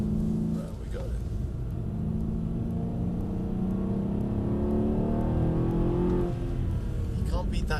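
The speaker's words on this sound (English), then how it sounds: "You can't beat that engine note, can you? A V8 engine." A V8-engined car at Brooklands rumbles and revs up in a rising drone that swells and fades, with people talking over the engine noise.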